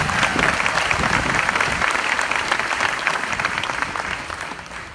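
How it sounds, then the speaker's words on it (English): Audience at an Epcot performance by an Army jazz band applauding a bass trombone player, a full, dense wash of clapping that slowly fades, with faint crowd murmur. "How about a round of applause for our bass trombone player from Lake Jackson, Texas, Staff Sergeant Sean Casey."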